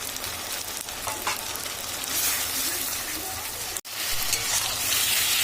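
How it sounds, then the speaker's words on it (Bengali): Onion fries in a pan with ginger garlic paste, giving a steady, close hiss and sizzle that runs throughout with a brief clatter near the end. "রসুনটা আদাটা দিয়ে আমি কিছুক্ষণ নিয়ে কষিয়ে নিয়েছি"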